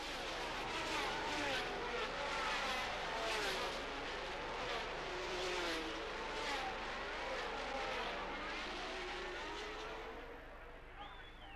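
1979 Formula 1 cars race into the Hunsrück section of the track, their high engine wails sweeping up and down in continuous overlapping passes that fade at the end, with a narrator talking over them.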